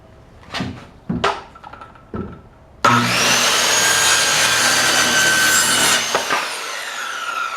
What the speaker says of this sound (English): Then you're going to cut it in the line and you'd have 2 equal boards the same length.